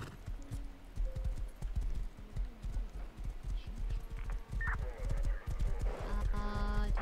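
Horse hooves clop steadily in a video game, a rapid rhythmic beat running through the whole stretch alongside game sound effects and some background voices.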